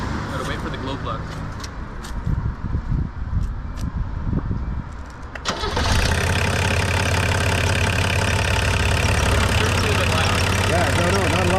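A 1984 Volvo 244 diesel with 555,000 km, parked in Montreal at around -40, fires up after its glow plugs warm. Voices talk at first, then the engine catches and settles into a steady, close, rumbling idle.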